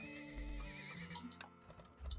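A horse whinnies loudly in the video game Turmoil, a long wavering neigh over soft hoof clip-clops, alone without talk.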